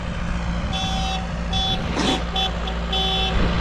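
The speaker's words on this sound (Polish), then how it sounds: "bardzo poważny klakson." A vehicle horn sounds in five short bursts of uneven length over a steady rumble of road noise.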